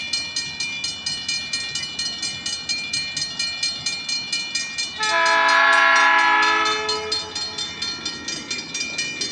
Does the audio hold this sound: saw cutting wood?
no